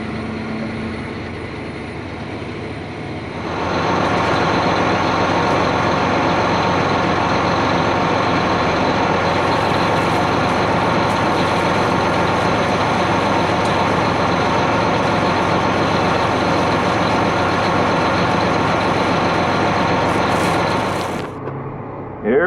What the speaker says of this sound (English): So we're gonna hop up in the tractor and get moving.